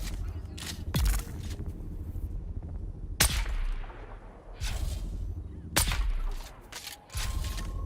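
Gunshots in the video game Dune: Awakening, a few loud, sharp single cracks spaced a couple of seconds apart over steady game ambience, with a player talking between them.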